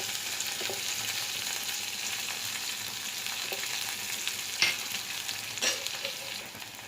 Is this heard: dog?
no